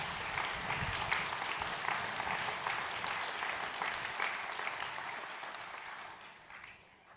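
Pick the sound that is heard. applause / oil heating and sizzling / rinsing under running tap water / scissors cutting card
applause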